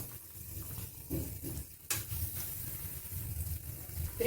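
Cassava vadas, made without dal, deep-frying in hot oil with a steady, soft, bubbling sizzle that stays even throughout, close but fairly quiet.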